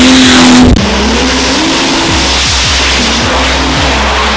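Diesel Pro Mod drag car at full throttle on a racing pass, a loud roaring engine with a sharp tone shift early on, then sustained heavy rumble with repeated rhythmic pulses as it pulls away.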